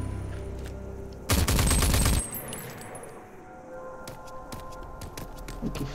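Gunfire in the video game Rage 2: a dense, loud burst of rapid shots lasting about a second, standing out over a lower background of game ambience.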